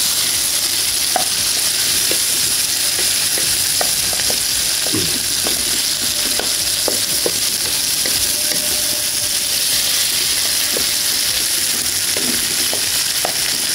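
Onions and chili stir-frying for spicy fried prawns, sizzling in a hot pan, a loud continuous fry hiss with occasional scrapes and clinks of stirring.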